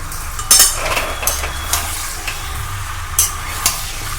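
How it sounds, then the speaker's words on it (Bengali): Chicken pieces frying in a pan for chicken curry, a steady low sizzle with a few sharp scraping and stirring clicks near the start and scattered later, close by with no voices. "চিকেনটাকে ফ্রাই করে নেব"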